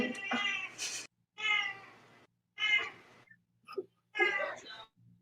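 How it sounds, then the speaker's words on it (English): A cat meows four or five times, drawn-out plaintive cries separated by short silences, close and fairly clear. "It's a cat."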